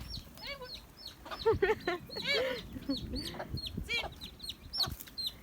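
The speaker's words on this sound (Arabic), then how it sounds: "الكتاكيت شوفوا الكتاكيت ديالي" Chicks peep in high, repeated chirps alongside the clucking of hens and other fowl at a farmyard, close and busy, with a person talking intermittently among the birds.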